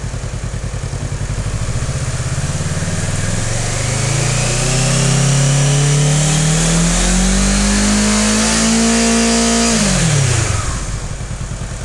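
A motorcycle engine revs steadily upward to about 75% of its maximum revs, holding a high, sustained pitch, then drops back to idle, loud and close with no talking.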